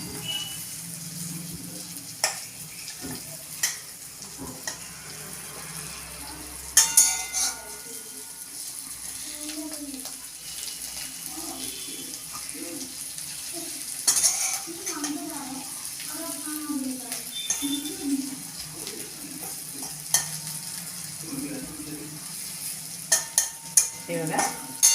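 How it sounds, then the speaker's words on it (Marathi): Stuffed green chillies fry in a pan with a low continuous sizzle, broken by occasional clanks and scrapes as they are turned, while someone talks over the cooking. "आता थोडा हलवून देते त्यांना. हे बघा, पलटी करून देते थोड्याशा."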